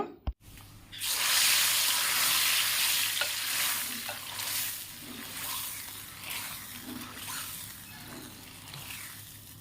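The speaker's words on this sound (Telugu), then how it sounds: "ఇద్దరిని పోపు అయితే వేస్తున్నాను ఇక్కడ" Spices for a leafy greens dal are tempered in hot oil, giving a loud, continuous sizzle that starts abruptly after a brief clatter and then slowly eases off.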